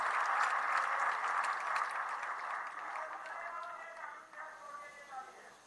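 Crowd applause at a political event in Panchkula celebrating a BJP local body election win: a dense wash of clapping that holds steady, then thins and fades toward the end.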